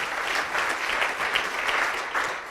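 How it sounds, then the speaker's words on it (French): An audience at a French-language talk on emotional intelligence in business claps together in dense, steady applause that holds throughout, moderately loud with no voices. "vous allez vous applaudir d'abord"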